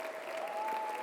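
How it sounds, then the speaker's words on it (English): Brief, soft audience round of applause at an entrepreneurs' launch event, a short patter of clapping with a faint tone running beneath it. "let's hear what a round of applause might sound like"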